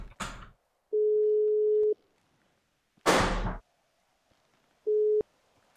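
Phone call tones in the GTA RP video game: two steady beeps, each about a second long, separated by short bursts of game noise, with no talk over them.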